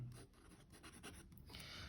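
Quiet scratching of a Lamy LX Ruthenium fountain pen nib moving across paper in short strokes, close and faint, with no talking.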